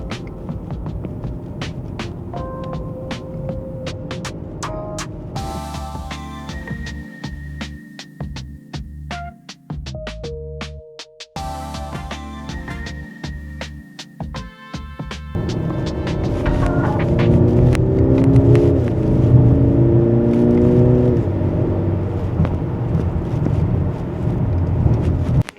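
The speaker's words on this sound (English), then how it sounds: "now we're in manual mode, and now we're using the paddle shifters to change our speed" A 2026 Mercedes-Benz GLC 300 SUV drives while shifted manually with paddle shifters, a steady engine drone rising in pitch and then dropping as gears change, with road rumble growing louder later on.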